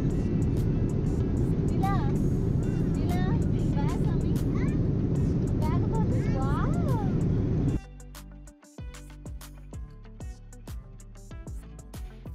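Airliner cabin in flight on a Qatar Airways journey from India to Germany, a loud steady broadband engine roar with voices and a child's cries over it for about eight seconds, then dropping sharply to a quieter interior.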